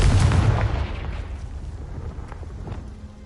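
A Confringo fire spell cast in Hogwarts Legacy explodes with a loud, deep blast that booms at the start and then rumbles away over the following seconds, with no talk.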